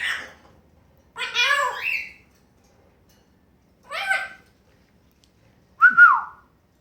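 A Congo African grey parrot gives several separate whistles, loud and close, each a short warbling burst with pauses of silence between them.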